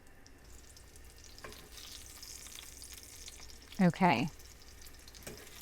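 Breaded chicken fries in a pan with a steady, soft sizzle that runs throughout, broken by a few brief clatters and a single short spoken word partway through.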